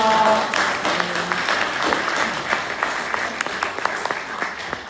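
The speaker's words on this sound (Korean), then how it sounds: "하나님 앞에 영광의 박수 올리겠습니다." Congregation applause during a Korean Presbyterian church service, a broad sustained clatter of many hands in a large room, gradually thinning toward the end, with a brief voice at the start.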